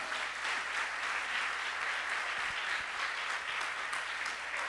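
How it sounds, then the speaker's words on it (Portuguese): A church congregation applauds during a Portuguese-language sermon on grace, with a steady, full wash of clapping from many hands at a moderate level that neither builds nor fades. "Você pode aplaudir o Senhor por causa da graça"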